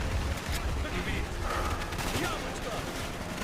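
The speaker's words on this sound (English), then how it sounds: "this AK shoots so good in this game" Dense, continuous AK rifle fire in the Call of Duty: Black Ops campaign, loud rapid bursts layered with battle noise and a faint voice underneath.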